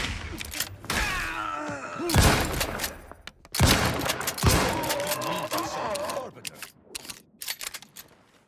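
Loud bursts of weapon fire and impact thuds from The Outer Worlds 2 come in several clusters, mixed with in-game groans and a voice talking over the action.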